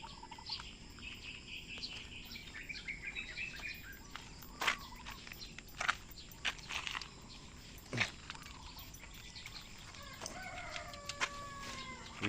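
Chickens clucking and a rooster crowing at a rural Filipino home, faint and somewhat distant, with scattered sharp calls and chirps over steady background hiss and no talking.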